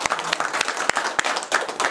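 Brief scattered clapping from a small group of attendees at an alumni association steering committee meeting, a few loud claps standing out in a short two-second burst.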